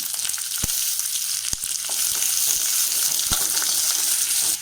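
Long-sliced big onions fry in hot oil with a steady, bright hiss throughout, broken by a few sharp clicks, then the sizzle cuts off at the end.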